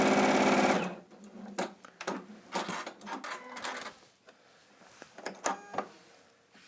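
A Juki NX7 sewing machine runs flat out along a seam, a fast dense chatter of stitches lasting about a second. It is followed by scattered clicks and handling knocks at lower volume.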